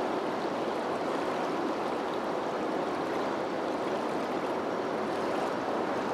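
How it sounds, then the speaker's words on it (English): Water flows in a steady, broad rush, constant and close with no pauses, like a stream or cascade, heard alone. "in the sound of the water flowing"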